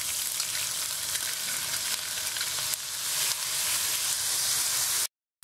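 Onion and garlic paste with cumin seeds sizzles in hot oil in a pan, a loud, dense, continuous frying hiss with faint stirring scrapes, cutting off abruptly at the end.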